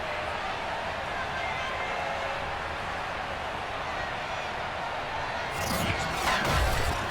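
Simulated home stadium crowd for a Miami Dolphins versus Baltimore Ravens matchup in Madden 22, a steady wash of crowd roar under continuous talk, swelling louder toward the end.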